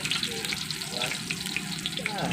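Eggplant omelette with ground meat frying in a pan, a steady close sizzle and crackle that carries on throughout, with brief speech over it.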